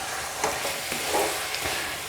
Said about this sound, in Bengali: এবার ছানার সঙ্গে এটাকে খুব ভালো করে মিশিয়ে নেব এবং আরও 5-6 মিনিট ধরে এটাকে এইভাবে লো ফ্লেমে অনবরত নাড়াচাড়া করে যেতে হবে